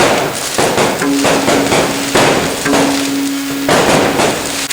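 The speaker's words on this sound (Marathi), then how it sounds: "फटाक्यांचा वर्षाव हा आनंदाचा क्षण या ठिकाणी साजरा करता येते." Firecrackers burst at a celebration during a devotional kirtan gathering, a rapid series of sharp cracking pops in several bursts over a faint sustained tone, loud and close, with no voices.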